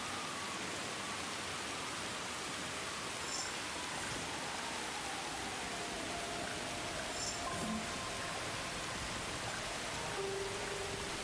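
Steady rain falls in the video game As Far As The Eye, a soft, even hiss that runs unbroken throughout with only faint tonal blips over it.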